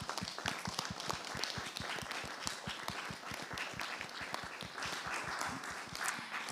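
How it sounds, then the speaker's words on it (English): Audience applauding a panel at an evening Cabinet Question Time event, steady dense clapping from a moderate-sized crowd that holds evenly throughout without voices. "a round of applause please for our panel tonight"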